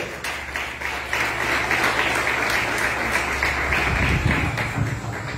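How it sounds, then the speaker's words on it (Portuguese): A church congregation claps steadily for several seconds in praise of the Lord during a Sunday service, a dense, even wash of many hands with a low hum underneath. "E as palmas louvem ao Senhor."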